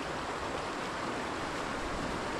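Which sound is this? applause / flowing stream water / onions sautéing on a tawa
flowing stream water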